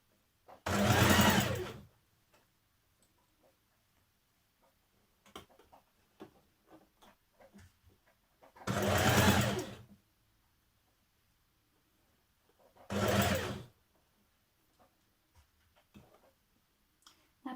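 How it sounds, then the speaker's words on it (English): A sewing machine stitches dress sleeves into position in three short close bursts of whirring, separated by quiet pauses with small handling clicks. "Stitch your sleeves into position."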